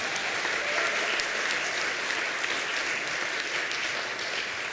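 A congregation claps together at an annual congregational meeting, steady dense applause filling the room throughout.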